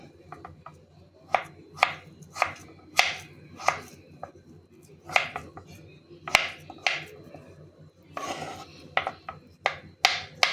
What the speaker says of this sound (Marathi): जेवढं शक्य तेवढं आपल्याला ते बारीक कापून घ्यायचे